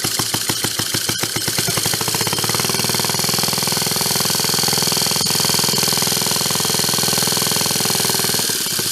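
A donated, broken reel mower's small engine runs steadily on its own fuel and is revved, giving a loud, continuous mechanical drone with rapid pulsing that holds throughout.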